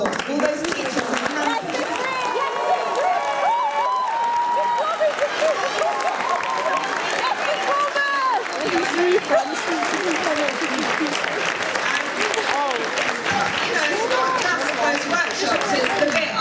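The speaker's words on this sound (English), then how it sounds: "So please could they all stand up and have a round of applause." Audience applauding teachers at a student speaking competition, sustained loud clapping throughout with cheering voices and chatter layered over it.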